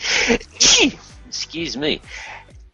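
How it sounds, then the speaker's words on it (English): A single loud, explosive sneeze bursts out near the start, followed by people talking. "Don't you love live and sneezing live?"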